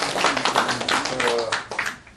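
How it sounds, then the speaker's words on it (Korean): People clap at a Confucian ceremony marking the restoration and re-enshrinement at Sabin Seowon, a short burst of mixed clapping with some voices, tapering off after about two seconds. "박수로."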